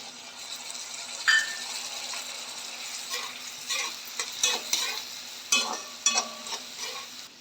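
Onion frying in a spiced tempering as a spoonful or two of garlic water is added, giving a steady soft sizzle with several sharper spits and stirring clatters near the pan, no talking.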